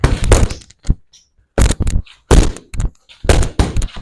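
Punches smack boxing pads during pad work in sharp, loud bursts of rapid strikes, several combinations separated by short pauses.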